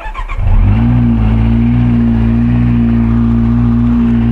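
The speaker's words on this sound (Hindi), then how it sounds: "मुझे ऐसा लग रहा है बाइक बहुत लाउड हो गई है मेरी" A Ducati Monster motorcycle with a broken exhaust starts up and settles into a loud, steady, throaty idle with a deep rumbling tone, very close by.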